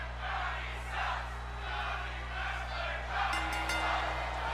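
A wrestling video game arena crowd roars and cheers through a Monday Night Raw match, a broad swelling din with rising and falling surges over a low steady hum, heard alone without commentary.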